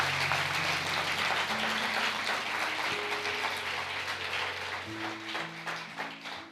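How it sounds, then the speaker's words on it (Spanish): A church congregation gives sustained applause, a steady wash of clapping that fades gently toward the end, with a low sustained musical tone underneath. "Dele fuerte ese aplauso al Rey."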